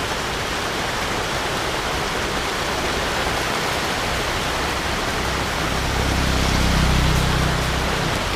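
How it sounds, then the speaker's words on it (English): Steady rain falling by a mountain, a dense, even hiss that swells slightly toward the end, with no talking. "Oh, starting to rain."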